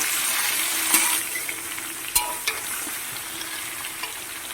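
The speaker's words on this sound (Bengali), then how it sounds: "কিছুক্ষণ একটু ভাজা ভাজা করে নেব" Pumpkin and potato pieces frying in oil in a pan, a steady bright sizzle throughout with a few sharp scrapes and clicks of stirring.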